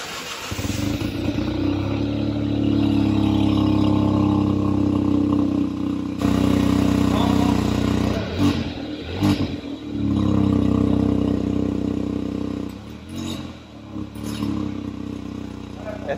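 Exhaust of a 2021 Hyundai i20 N Line through a twin muffler, a loud sustained engine note with revs rising and dropping, then short breaks between bursts, with a voice talking.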